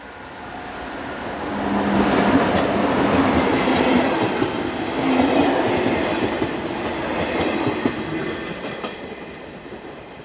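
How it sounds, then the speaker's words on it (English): An Arriva Class 223 diesel train rumbles into a station in Germany, growing louder as it approaches, with engine drone and rolling wheel noise swelling and easing. "Our first scene shows Arriva trains number 223065 arriving with a local service from Memmingen."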